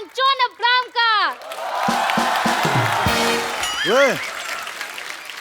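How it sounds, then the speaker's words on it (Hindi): A studio audience at a Hindi television comedy show claps and cheers to welcome film actors on stage, a loud sustained burst of applause following a few spoken words, with voices and a short sung note over it. "जोरदार ताली से स्वागत कीजिए Varun Dhawan and John Abraham का"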